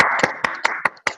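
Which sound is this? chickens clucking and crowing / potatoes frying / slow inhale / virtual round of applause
virtual round of applause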